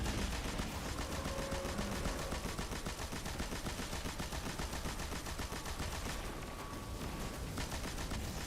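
Rapid automatic gunfire from a video game bunker level rattles steadily and loudly through the whole stretch, dense bursts layered with a faint tonal hum and no talking.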